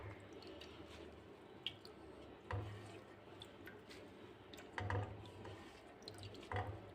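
Mustard greens for sarson ka saag washed by hand in a basin of water, with soft sloshing, squishing and occasional drips at close range, a few louder splashes breaking through a steady wet rustle.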